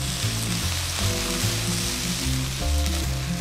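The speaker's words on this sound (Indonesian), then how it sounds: "Nah, ini kita aduk rata lagi." Kimchi fried rice seasoned with soy sauce and pepper sizzles steadily in a hot pan while being stirred, with repeated scraping strokes of the utensil over the constant frying hiss.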